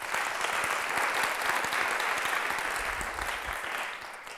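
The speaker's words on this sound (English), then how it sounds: "Let's give them a quick round of applause" A crowd at a college talk claps steadily for several seconds, a dense patter of applause that slowly fades toward the end.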